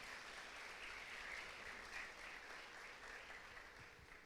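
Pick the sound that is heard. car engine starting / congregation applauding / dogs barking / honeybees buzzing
congregation applauding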